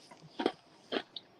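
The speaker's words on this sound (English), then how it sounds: "You caught me right when I was crunching" Crisp crunching bites close to the ear, two louder crunches followed by smaller clicks, with no talking.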